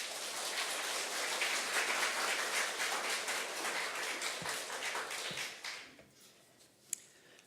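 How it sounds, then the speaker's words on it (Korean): A church congregation in Ulsan applauds to welcome the pastor with dense, sustained clapping like heavy rain. It tapers off after about six seconds, and a few scattered claps follow. "하나님 이로 우리 박수로 모시겠습니다."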